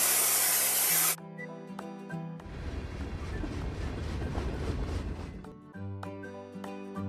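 Spray gun hissing as it sprays paint in a mobile train-building video game, a steady broad spray lasting several seconds between short musical chimes and tones.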